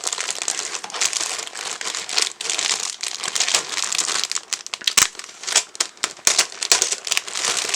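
Standard plastic bags from a 1/48 Hobby 2000 A-10C model kit crinkle and rustle loudly up close, a continuous crackling with sharper crumpling bursts toward the end and no talking.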